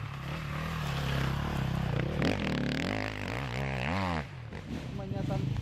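KTM enduro motorcycle engines race at a 2014 Enduro World Championship round in Portugal. Revving, rising engine tones sound close and loud, with a commentator talking over them throughout.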